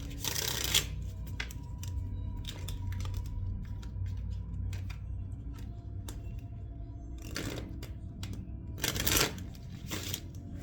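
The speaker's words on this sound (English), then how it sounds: "I don't know why I was struggling to shuffle this damn deck." Quick riffling bursts of cards being shuffled, a few separate flurries with quiet pauses and light tapping between them, close by.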